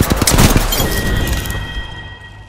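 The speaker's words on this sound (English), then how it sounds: "I am taking fire." A short burst of Apex Legends gunfire: a few rapid cracking shots up front with sharp impacts, then a ringing tail that fades out over a couple of seconds, with no talking.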